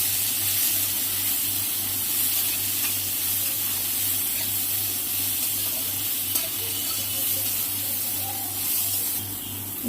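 Vegetables frying with salt in a pan on a home stove, giving a steady, continuous sizzle with watery hiss and a low hum underneath, close and even throughout with no talking.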